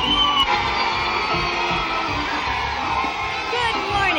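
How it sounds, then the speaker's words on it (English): A crowd cheers and shouts on a 1968 political convention floor during a demonstration, a loud, continuous roar of mixed voices and whoops that fills the whole moment. "the crowd isn't going to quiet down for him"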